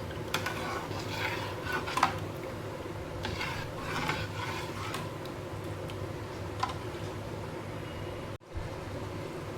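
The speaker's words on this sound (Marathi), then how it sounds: "साखर छान मिक्स करून घ्यायचे आहे आपल्याला" A spoon stirs sugar into homemade aam panna, a mango and mint drink, producing light repeated clinks and scraping against the vessel over several seconds.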